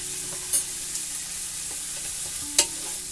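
Scallops cooking in a hot pan give off a steady, soft sizzle, with two brief sharp clinks or scrapes standing out over the continuous frying hiss. No one speaks.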